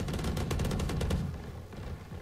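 Rapid gunfire in a video game, a fast burst of close shots for about a second that cuts off, leaving a quieter tail.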